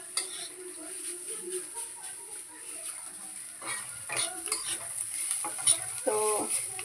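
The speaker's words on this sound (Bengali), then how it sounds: "তো সজনে পাতা একটু একটু ভাজা ভাজা হয়ে যাবে" Moringa (drumstick) leaves frying and being stirred in a pan, with a steady soft sizzle and scraping stir strokes that grow busier toward the end, with faint voice-like sounds in the background.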